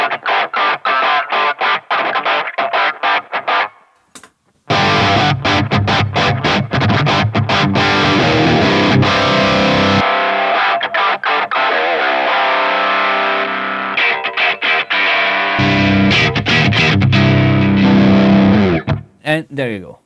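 A Line 6 Helix guitar processor runs a radio/phone effect over a guitar, giving a thin, band-limited, crunchy tone; several loud, distorted strummed and picked passages are heard, separated by brief gaps.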